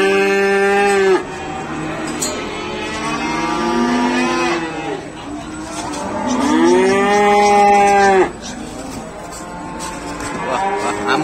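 An agitated cow lets out long, loud, close moos in repeated bellows, with quieter breathing and shuffling between calls at a cattle grooming session.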